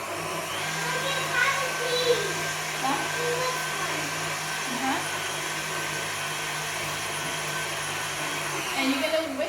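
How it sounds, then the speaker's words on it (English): A handheld electric mixer whisks strawberry cake batter with a steady whirring motor hum that stays even and continuous from start to finish. "if you're using your handheld mixer or KitchenAid, always start at the slowest setting"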